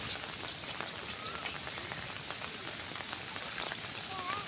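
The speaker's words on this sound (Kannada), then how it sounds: "ಉಡುಪಿ ಅತ್ಯಂತ ಹೆಚ್ಚು ಮಳೆಯನ್ನ ನೋಡ್ತಾ ಇದೆ." Heavy rain falls steadily during floods in Kodavooru, Udupi, a constant fairly quiet hiss with scattered sharp drips and ticks, and faint chirps near the end.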